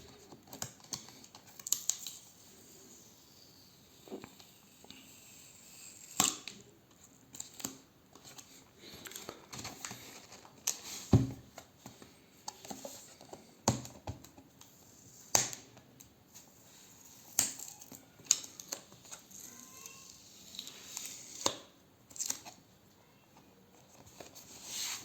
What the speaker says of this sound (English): One hand man again, working on unboxing.